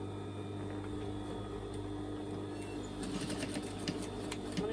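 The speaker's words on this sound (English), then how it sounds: "I'm just going to literally tack that so that it's going to be spot on when I sew it." A sewing machine makes a few tacking stitches on a skirt waistband seam, a steady close mechanical hum and whir that picks up into quicker rhythmic stitching near the end, with no talking.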